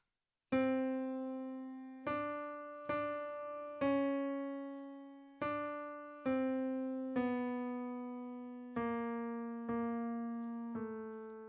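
A single piano line of sustained notes, a chromatic inner line in a hymn, each struck cleanly and left to ring, stepping slowly through about nine notes with no other sounds.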